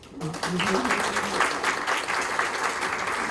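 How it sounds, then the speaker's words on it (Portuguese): An audience at a university round-table event claps for a professor, a steady, fairly dense wash of applause that rises after a short spoken opening and continues evenly at moderate volume. "Gostaria de pedir uma salva de palmas a ele."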